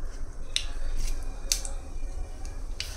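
Mustard seeds spluttering in hot oil in a pan: a few sharp, isolated pops spaced about a second apart over a low background hiss.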